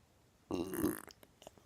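One loud, drawn-out belch lasting about half a second, trailing off into a few small gurgling bursts, close and alone.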